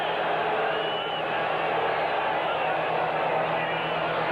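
A stadium crowd at a 1986 Bills vs. Bengals NFL football game, on fourth and inches, swells into a loud, continuous roar that holds evenly for several seconds.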